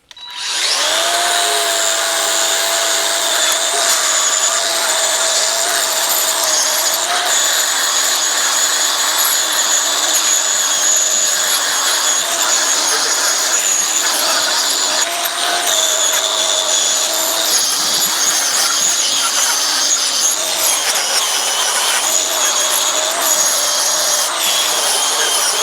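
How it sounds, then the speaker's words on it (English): Angle grinder cleaning rust off the steel rails of a 1932 Model A frame jig, a continuous loud high-pitched whine with gritty grinding that holds steady for the whole stretch. "I'm going to have to hit them with a grinder because it's been a while since I've messed with this thing, and it's got some rust on there"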